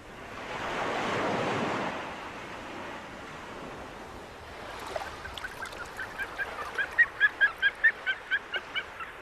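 Waves wash heavily onto a rocky coast as wintering harlequin ducks begin calling, a run of rhythmic, squeaky honks that grows louder and steadier over the surf.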